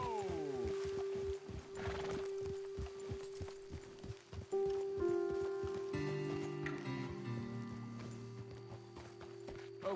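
Horses in a video game clip-clop in quick rhythmic hoofbeats that slow to a stop, with a neigh or whinny, over a steady droning game soundtrack.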